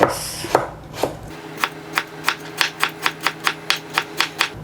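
Big kitchen knife slicing ginger very thinly against a cutting board: a quick, steady series of about a dozen sharp, close taps that speed up into an even rhythm, with no talking.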